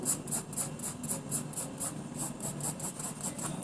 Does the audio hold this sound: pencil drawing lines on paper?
yes